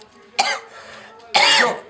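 Two short, rough coughs from a person with a cold, close and fairly loud, separated by about a second of quiet.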